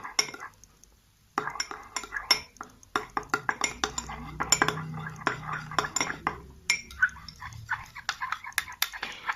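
A spoon mixing oil and cream in a bowl, with rapid repeated clinks and scrapes against the dish, close and fairly loud after a brief quiet start.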